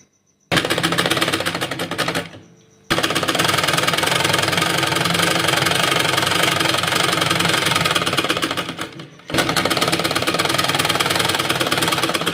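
An electric sewing machine runs steadily stitching fabric for a shirt, a loud continuous whirring hum with a fine rapid needle rhythm, pausing twice briefly before resuming at the same speed.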